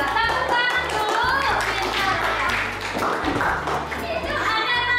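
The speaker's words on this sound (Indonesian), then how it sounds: "Iya, tepuk tangan dulu" A classroom of children clapping their hands together, a burst of brisk, overlapping claps that runs through the whole stretch, loud and close, mixed with children's voices and a teacher speaking.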